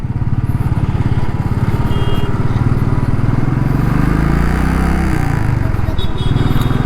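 A motorcycle engine chugs at a steady, loud, close rhythm while the bike rides through traffic, with light traffic noise and a faint beep around it.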